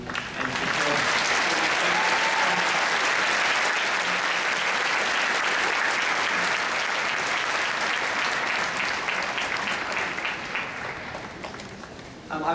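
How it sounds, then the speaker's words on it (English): A large audience at a high school commencement claps loudly and continuously for several seconds, a dense wash of applause that slowly tapers off toward the end. "I would like to ask all of you to join me in a round of applause"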